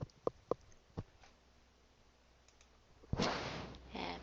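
A computer mouse clicks in a spreadsheet cell: three crisp, close clicks in quick succession, then quiet, followed by a louder rustling burst near the end.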